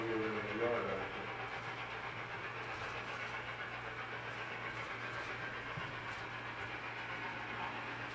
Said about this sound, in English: Just the train going,